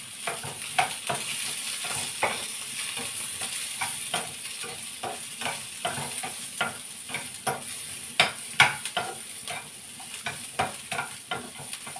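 Green chilies stirring and frying in a hot pan, a steady crackling sizzle with repeated scraping strokes of a spoon against the metal, close and continuous.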